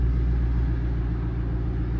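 A car engine idling after being started, a steady low rumble close by with a slight rise in revs, no voices over it.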